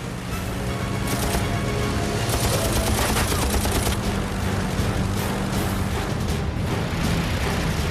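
Rapid machine gun bursts from a P-51 Mustang fighter in aerial combat against a German plane, dense loud continuous firing under engine roar with no pauses throughout.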